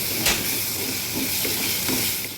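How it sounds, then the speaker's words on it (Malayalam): Onion, garlic and ginger sauté in a pan for a fish and drumstick curry, giving a steady close sizzle with a few soft stirring scrapes over about two seconds; no talking. "ഉള്ളിയും വെളുത്തുള്ളിയും ഇഞ്ചിയും ഇത് മൂന്നും കുറച്ച് ഒന്ന് റെഡ് കളറായി വഴഞ്ഞിട്ട് വരണം."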